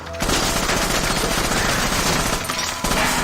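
Rapid automatic gunfire from the video game Assassin's Creed Rogue, a dense, loud, continuous burst of shots lasting nearly the whole moment with a short break near the end.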